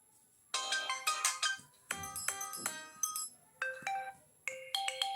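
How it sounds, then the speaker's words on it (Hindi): Ringtone on an Infinix Note 12i phone: a bright electronic melody of chiming synth notes in short repeated phrases, clear and close with nothing behind it. "सिंपली क्लिक करके आप यहाँ पे सिम रिंगटोन को सेट कर सकते हैं, अपने रिंगटोन को चेंज कर सकते हैं।"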